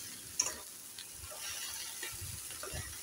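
Okra being stirred in hot oil for bendakaya pulusu, with a soft, steady sizzle and a few light scraping clicks from the spoon, fairly quiet and close.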